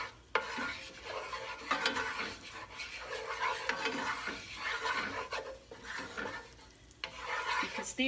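About three tablespoons of butter with olive oil sizzling in a preheated pan, a steady close crackle broken by scraping, stirring and occasional utensil clinks against the metal.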